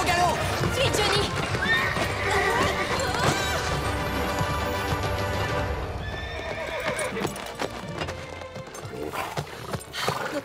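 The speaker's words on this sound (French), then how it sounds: "Au galop! Suis Johnny" A Playmobil toy-world horse gallops with loud, rapid clip-clop hoofbeats and gives a whinny, all under busy music and effects, with the hooves easing off toward the end.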